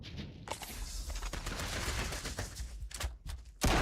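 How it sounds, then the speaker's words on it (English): Ship weapons in the space game Star Citizen open fire in a sustained burst of rapid shots, dense and loud throughout, with a brief lull before a final sharp blast near the end. "Opening fire."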